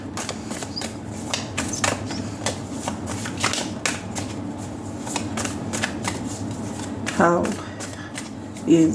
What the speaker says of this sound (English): So let me shuffle the cards for you.